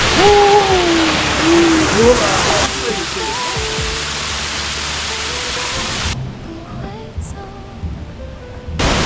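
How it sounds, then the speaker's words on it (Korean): Loud, steady rushing water roars like a nearby waterfall in Taiwan during the rainy season, with voices talking faintly over the constant wash. "물소리 들리시나요?"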